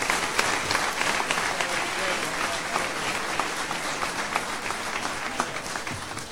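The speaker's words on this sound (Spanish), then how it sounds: "escucha aplausos" Sustained applause from people gathered outside a cultural center in Buenos Aires, following a talk on a screen; dense distant clapping with a roomy wash, steady throughout.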